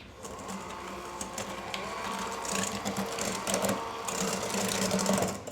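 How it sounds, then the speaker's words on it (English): An electric hand mixer whirs steadily through pudding custard in a kitchen, a continuous buzzing motor hum with small fluctuations as it churns, close and fairly quiet. "Now we're gonna go ahead, we're done with our hand mixer."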